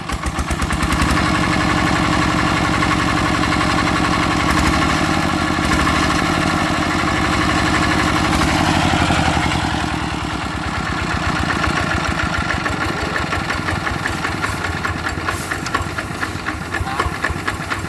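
A gas-fuelled small engine, freshly rebuilt with new gears, revs loudly and continuously up close, a dense roar with hissing and a rhythmic mechanical chatter that shifts in pitch partway through.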